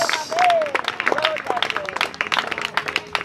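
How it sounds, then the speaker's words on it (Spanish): Church congregation applauding during a sermon, a dense patter of clapping with voices and shouts mixed in, fairly loud and close throughout the short stretch. "Denle un fuerte aplauso al Señor."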